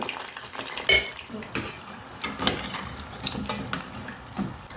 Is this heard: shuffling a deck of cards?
no